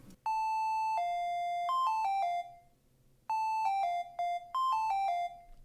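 Synth counter melody with a simple pixel-style tone, two short phrases of bright bell-like descending notes separated by a pause, clean and up front with no talking.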